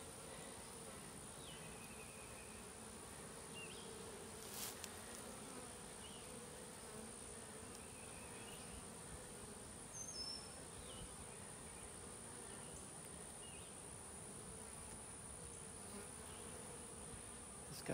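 A honeybee colony at a tree-stand swarm hive hums with a steady, dense buzz of many bees close by, continuous and even throughout with no talking.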